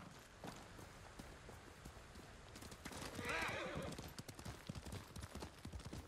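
Hooves clip-clop steadily as a horse moves in the video game Ghost of Tsushima, and a loud whinny rises in the middle, all fairly distant and faint.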